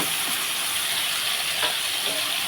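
Food sizzles steadily in hot oil in a pan while a bottle gourd curry is being cooked, a constant close hiss with faint crackles and no pauses.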